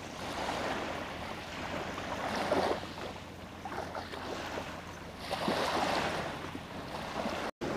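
Calm sea waves washing in gently, with soft broadband surges swelling and fading over a steady low background, no voices.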